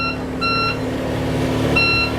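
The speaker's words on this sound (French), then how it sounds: "On va ensuite avoir un petit bip de préchauffage." Two short electronic preheat beeps sound from the engine controls of a Lucia 40 catamaran, crisp tones with a pause between them, over a steady low background hum.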